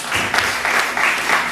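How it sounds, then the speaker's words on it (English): A church congregation claps in praise, a dense and steady wash of hands that swells in short surges throughout, close and fairly loud. "Let's give God the Lord a clap of praise"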